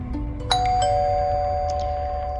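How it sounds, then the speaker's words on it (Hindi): A doorbell at a house rings late at night, two-tone chime notes struck near 0.5 and 0.8 seconds and left to ring out clearly over a low background hum, with no voices. "तभी दरवाजे की घंटी की आवाज़ आई।"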